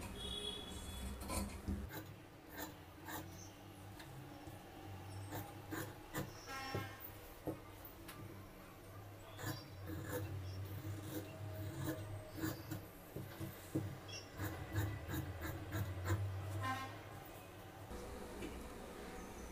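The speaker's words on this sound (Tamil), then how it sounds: "இப்போ நம்ம நெக் பகுதியிலேருந்து கட் பண்ணிக்கலாம்." Scissors cut through blouse fabric from the neck in a tailoring session, producing soft, quiet rasping snips and rustles that come in clusters over about twenty seconds against a faint low hum.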